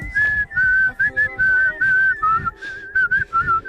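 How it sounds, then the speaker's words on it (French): Someone whistles a lively, wavering melody in clear, close, loud phrases with short breaths between notes, alone without talk. "En ce moment, je siffle beaucoup. Je siffle ça, là."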